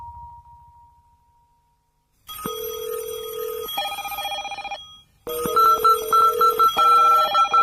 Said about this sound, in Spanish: imaginen que hacen una llamada telefónica